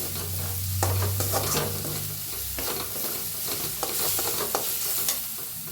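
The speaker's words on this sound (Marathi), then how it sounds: "चांगला कांदा भाजला आहे त्याच्यात टाकूया हळद अर्धा चमचा भाजून घेऊया हळदीला" Onion and turmeric roast in a pan for bread pakora, with a continuous close sizzle and frequent stirring scrapes and clinks of a spoon against metal.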